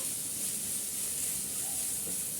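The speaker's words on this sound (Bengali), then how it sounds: "আমি এখন ভালো করে মাংসটা একটু এই মশলার সাথে কষিয়ে নেব আর একটু সেদ্ধ করে নেব" Chicken meat sizzles in a pan with spices and ground black pepper, a steady close hiss of frying with no talk.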